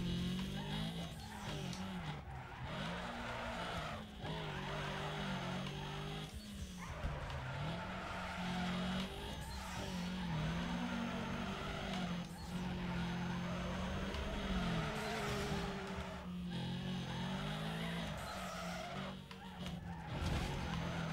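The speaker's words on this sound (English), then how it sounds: "The angles I get with the drift are just amazing, like, so much power, that's insane." Drifting car in Need For Speed Underground 2 with a sustained engine roar and continuous tire squeal, loud and close throughout, the engine pitch rising and dipping as the car slides through corners.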